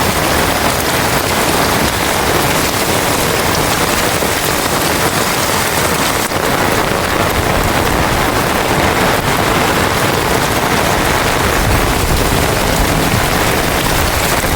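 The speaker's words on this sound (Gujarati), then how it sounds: "તમારે કોઈને આવો વરસાદ પડ્યો તો ભાઈ કમેન્ટમાં કરી દેજો" Heavy rain falls nonstop over open farmland during a gusty monsoon storm, a loud, unbroken roaring hiss of drops that fills the whole stretch without pause.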